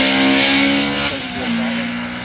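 A BMW M3 E30 race car at a hill climb, its engine loud and close with a steady high-pitched drone that dips and shifts pitch partway through, as if changing gear, while a commentator talks over it.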